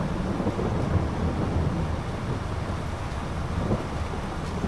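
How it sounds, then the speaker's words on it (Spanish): Steady ambient rain from a Farming Simulator 23 field scene, a continuous even wash of rainfall with a low rumbling, wind-like undertone throughout, no voices. "los sonidos ambientales de la lluvia aquí en este juego"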